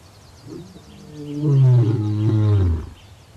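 Two lions give a deep, resounding roar that swells to a loud, sustained peak for about a second and a half and then cuts off, with no other sound around it.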